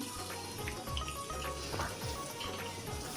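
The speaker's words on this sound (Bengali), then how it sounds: "পেঁয়াজ দিয়ে কাঁচামরিচ দিয়ে আমি ভালোভাবে একটু পেঁয়াজ কাঁচামরিচ ভেজে নিব।" Sliced onions and green chilies fry in hot oil in a wok, a constant crackling sizzle running under faint steady tonal hum, with no voices.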